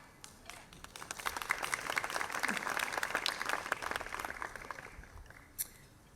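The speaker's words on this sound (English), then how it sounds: "Everyone at MECOP should get a round of applause" A small group claps, the applause swelling, holding steady for several seconds, then thinning out with a few last claps.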